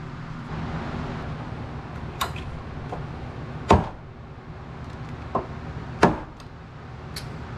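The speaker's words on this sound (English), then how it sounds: "So let's get the hammer and give this thing a whack." Several sharp metallic whacks ring out as a hammer strikes a suspension part on a 1979-1993 Fox-body Ford Mustang, spaced irregularly over a low background hum, one strike noticeably louder than the others.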